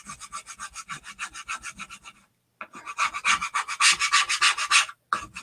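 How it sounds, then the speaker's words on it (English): Scraper lightly scrubbing chalk paste off a stencil, a fast run of rhythmic rasping strokes, close and fairly loud, with a brief pause midway and a short gap near the end. "So you just want to lightly scrub on it, and that kind of gets the bulk of that paste off."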